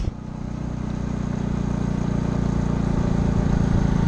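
A struggling car engine drones steadily and loudly throughout, a low continuous rumble on a road trip in Mexico, with no voices.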